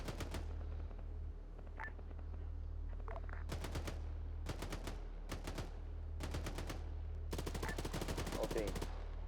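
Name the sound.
armoured vehicle gunfire in the video game Arma 3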